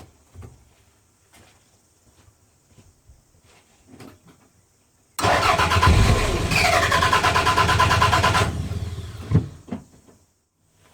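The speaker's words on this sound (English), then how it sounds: "We'll give it a crank." During start and stall diagnostics a Toyota MR2 engine cranks over on the starter, loud and close, in a steady rapid churn lasting about three seconds between quiet stretches, with no talk.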